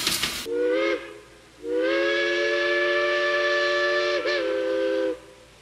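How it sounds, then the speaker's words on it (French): A digital model train locomotive sounds a sustained steam-style whistle in two long blasts, loud and close, with a faint steady hum beneath and no talk. "Je vais utiliser la molette et aussitôt ma locomotive"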